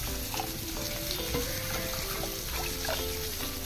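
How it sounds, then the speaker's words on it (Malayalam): Thick coconut milk poured into a fish curry in a hot pan, giving a steady, close sizzle and light bubbling that runs through the whole short moment, with no talking. "നമുക്കിനി തേങ്ങാപ്പാൽ ഒഴിച്ചു കൊടുക്കാം. കട്ടിയായ തേങ്ങാപ്പാൽ എടുക്കണം ഇതിനായിട്ട്."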